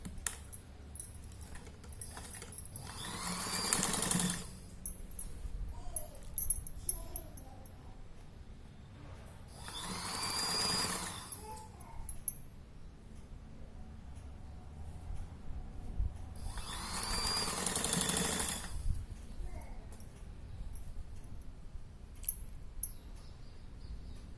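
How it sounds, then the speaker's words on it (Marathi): A sewing machine stitching a small girl's petticoat runs in three separate bursts of a few seconds each, evenly spaced, with quiet handling noises between them, close by. "हिच्यावर आपण दाब शिलाई घ्यायची"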